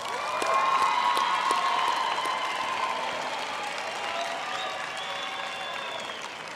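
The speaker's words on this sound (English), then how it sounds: "ask our graduates to applaud their families, partners, and spouses for their support over the years" Graduates at a university autumn graduation ceremony applaud their families, a broad, steady sustained clapping from a large hall crowd, moderately distant and gently tapering off.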